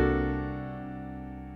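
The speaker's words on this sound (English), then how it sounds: "The blue notes refer to a sound of dissonance in the music" A single sustained dissonant jazz chord with a blue-note clash rings out alone, full and resonant, then slowly fades over about a second and a half.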